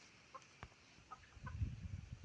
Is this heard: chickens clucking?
yes